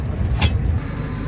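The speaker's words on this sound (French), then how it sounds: "toutes les voitures tournent le matin pour se réchauffer avant qu'on puisse partir avec" Cars idle to warm up on a snowy winter morning in a Chicoutimi neighbourhood, a steady low engine rumble close by with no other sound over it.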